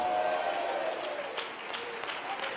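Church congregation clapping together during a Telugu sermon, a dense wash of hand claps that stays fairly even and moderately distant, without a clear voice on top.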